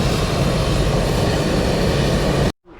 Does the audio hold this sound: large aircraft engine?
yes